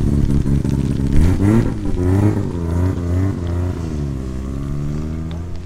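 Several engines rev hard at a wet, windy night-time JDM car meet, with rising and falling throttle sweeps and loud, close exhaust rumble sustained throughout.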